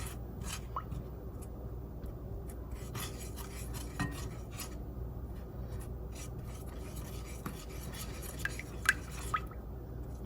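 A spoon stirs shaving lotion ingredients melting in a pot over low heat, giving soft scrapes and scattered light clinks over a steady background hum.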